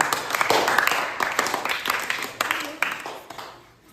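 A small group of students claps for a classmate, Vaishnavi, in a classroom, brisk uneven applause at close range lasting a few seconds before fading out.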